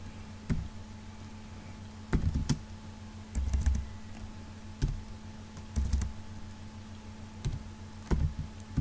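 Someone types on a computer keyboard, entering text into a new file in Photoshop, in short bursts of quick clicking keystrokes separated by pauses, fairly close and quiet against a faint electrical hum.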